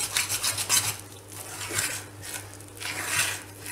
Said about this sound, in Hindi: इसको कंटिन्यूसली चलाते रहना है क्योंकि जब पैन गर्म होता है तब तक बेसन भूनते जाता है